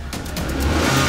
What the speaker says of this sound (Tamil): சீக்கிரம் சீக்கிரம் வண்டி கிளப்பு